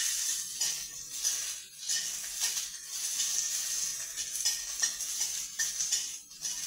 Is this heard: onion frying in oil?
yes